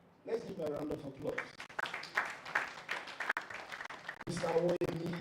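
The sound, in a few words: audience applause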